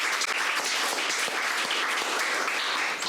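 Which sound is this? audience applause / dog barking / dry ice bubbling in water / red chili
audience applause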